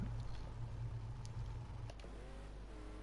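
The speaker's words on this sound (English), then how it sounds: "You can hear him driving." Racing car pulling out of the pits in a racing video game, a faint steady engine drone with a low rumble, fairly quiet and distant, alone without talk.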